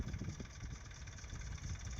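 A Massey Ferguson tractor engine runs on a farm in Gujarat. The low rumble is steady and fairly close, with no talk over it.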